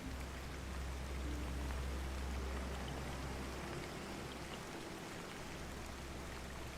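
Steady rain falls on a wooden ship at sea, a dense, even hiss with a low rumble underneath, continuous and close throughout, no voices.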